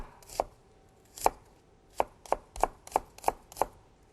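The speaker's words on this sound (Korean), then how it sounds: "양파는요 이렇게 반 2등분 하셔가지고 결대로 얇게 채 썰어주세요" A knife chops through halved onion on a cutting board, slicing thin strips along the grain: eight crisp, close knocks, spaced loosely at first and then in a quicker steady rhythm, with no voices.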